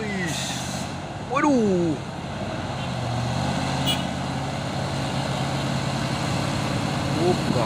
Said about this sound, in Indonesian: ada 2 unit truk trailer ini ya, membawa kontainer